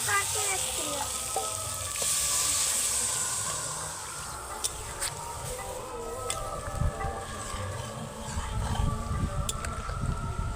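Potatoes frying with spices sizzle steadily up close as water is added, a loud hissing spit with stirring scrapes and clinks that turns into a softer bubbling hiss, with no one talking.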